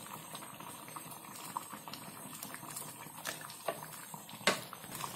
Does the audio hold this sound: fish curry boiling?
yes